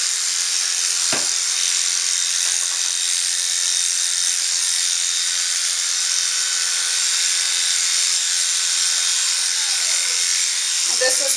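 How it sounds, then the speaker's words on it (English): A cordless Oster Volt dog clipper runs with a constant high-pitched electric buzz, close and steady throughout, with a faint knock or two underneath. "This is my Oster Volt clipper."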